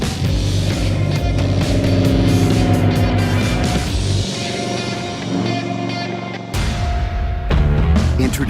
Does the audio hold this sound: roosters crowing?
no